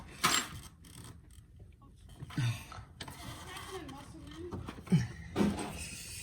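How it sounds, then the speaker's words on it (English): A Polaris RZR 1000 front axle worked into place, with irregular metallic clunks, knocks and mechanical scrapes at close range, and a voice briefly audible in the background. "Trying to get this axle in."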